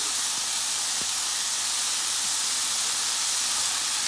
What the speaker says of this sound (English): And now I'm gonna add my white onion.